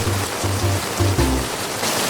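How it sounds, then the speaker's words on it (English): Heavy Florida afternoon rain shower, a steady broadband hiss of pouring rain with low rumbling pulses underneath, continuous throughout. "These afternoon showers are relentless around here."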